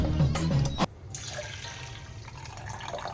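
Water splashes and trickles into a container, a short heavy pour at first followed by a softer, steady running flow.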